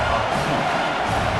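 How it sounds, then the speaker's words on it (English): Stadium crowd roaring in EA Sports College Football 26 as fans rally behind the defense on third down, a steady dense wash of cheering noise throughout. "Decibels rising as the crowd gets behind this defense on 3rd down."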